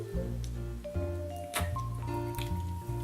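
Sparkling water is sipped and swallowed close to the mic in a short sequence of wet gulps and squishy mouth sounds, with small fizzy clicks between swallows.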